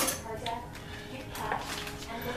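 Metal kitchen utensils clink and rattle as a knife is picked up from among them, short scattered clatters close by.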